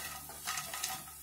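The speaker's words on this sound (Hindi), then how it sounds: "इन्हें भी थोड़ा सा फ्राई कर लेंगे, ये देखिए इस तरह से।" Finely chopped cashews and almonds shallow-frying in a pan give a steady close sizzle, with soft stirring scrapes against the metal.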